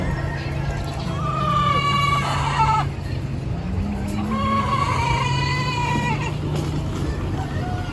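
Chickens and other fowl at the First Monday Trade Days market in Canton, Texas give drawn-out, loud calls and squawks in two long bursts over a constant crowd and outdoor hum.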